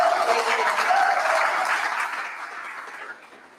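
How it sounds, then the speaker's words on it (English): An audience applauds a comedian, a sustained, fairly loud wash of many hands clapping that gradually tapers off toward the end. "Please make your applause louder."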